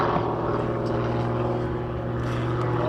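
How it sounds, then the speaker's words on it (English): Small single-engine propeller airplane of about 100 horsepower, maneuverable, flying at a WW2 weekend airshow in Reading, PA; a steady, loud engine drone with strong harmonic hum runs throughout, with no talk. "The airplane is extremely maneuverable, and Jerry says it's a lot of fun to fly."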